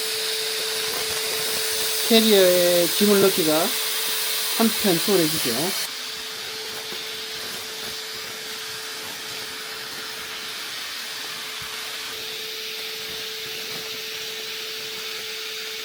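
A vacuum cleaner draws the air out of a compression storage bag with a steady, close, whooshing drone, while people talk over it for the first few seconds.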